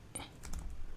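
Java code being typed on a computer keyboard gives a short burst of a few soft, close key taps over a low background hum, with no talking.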